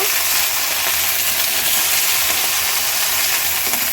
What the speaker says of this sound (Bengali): এই যে আলুগুলো দিয়ে দিচ্ছি, সবই ভাজতে থাকবো